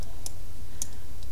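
Computer mouse clicks at a desk, three sharp, crisp clicks spaced unevenly over a second against a quiet background hum.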